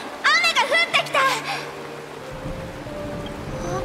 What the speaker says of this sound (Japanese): 雨だよ、雨が降ってきた。